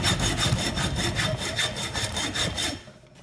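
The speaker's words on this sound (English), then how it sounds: "Just basically cutting it with a hacksaw and seeing what the heck's inside of it." A hacksaw cuts into an electric motor in a steady run of close, rasping back-and-forth strokes, about a dozen in quick rhythm, trailing off at the end.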